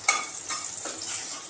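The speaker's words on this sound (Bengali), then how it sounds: "আমি তেলের মধ্যে এবার একটু 5 ফোড়ন দিয়ে দিচ্ছি, 4টে কাঁচা লঙ্কা।" Five-spice seeds and four green chilies hit hot oil, giving a short burst of crackling sizzle with a quick stir, close and fairly loud.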